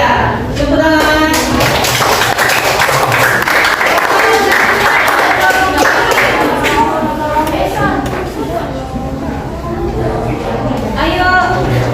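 A classroom group claps for a student team after their presentation, a busy clatter of hands that runs under lively chatter and kids' voices throughout.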